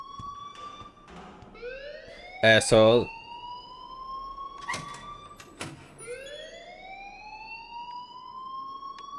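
A high electronic alarm in the video game Life is Strange wails in repeated rising sweeps, loud and close, with a brief burst of speech partway through and a thump.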